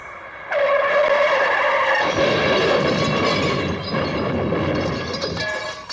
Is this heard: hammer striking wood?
no